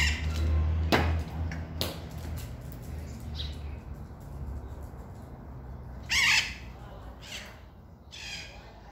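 A parrot perched in a tree while feeding gives several harsh squawks at irregular intervals, one louder call standing out, over a steady outdoor background with faint low rumble.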